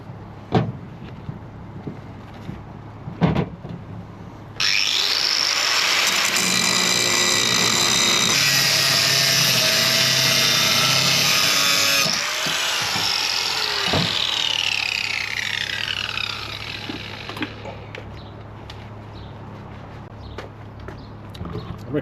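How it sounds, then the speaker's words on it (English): A power tool cuts through a K&N aftermarket air intake pipe for a BMW X5 E70, a steady loud whine lasting several seconds, then a shorter fading pass, with light clatter of handling before and after. "So I might just cut another little bit off it."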